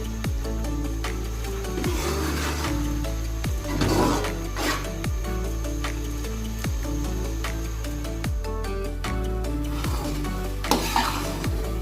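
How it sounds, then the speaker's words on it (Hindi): Grated bottle gourd halwa cooking with ghee in a pan is stirred in regular scraping strokes roughly every half second, close and fairly loud over a steady tonal background. "घी डाल के इसको अच्छा सा मिक्स करेंगे।"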